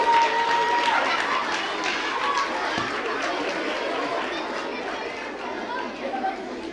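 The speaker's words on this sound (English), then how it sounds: "Let's give the Grinch a big round of applause." A school-play audience claps and cheers for the actor playing the Grinch in How the Grinch Stole Christmas, a steady wash of applause and crowd chatter running throughout.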